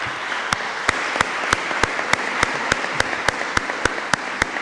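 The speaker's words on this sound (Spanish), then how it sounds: "pido un aplauso enorme para todos" Students at a school legislature session applaud. Sharp, evenly spaced claps repeat about three times a second over a steady wash of crowd noise.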